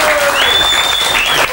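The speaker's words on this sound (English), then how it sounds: "Let's give a big applause, everyone." A game show studio audience breaks into brief, dense applause, the clapping close and continuous under a voice speaking over it and a bright sustained tone.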